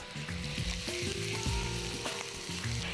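Chopped onion frying in hot ghee in a kitchen pan gives a steady, close sizzle with crackling spatter throughout, and no talking.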